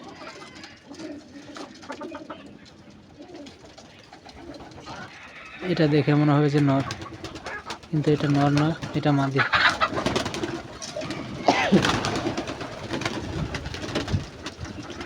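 Giribaz pigeons, a fancy flying breed kept in a loft, give repeated throaty coos in close bursts, loudest through the middle, under steady talk from a man nearby.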